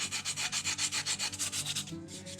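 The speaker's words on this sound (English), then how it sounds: "I'll take a sanding pad and go over it" Hand sanding pad or emery board rubbed over a carved and burned wooden twin bass, knocking down the scales: steady rhythmic back-and-forth strokes, close and fairly loud, slowing near the end.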